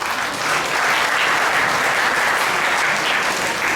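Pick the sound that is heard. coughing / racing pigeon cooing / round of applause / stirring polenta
round of applause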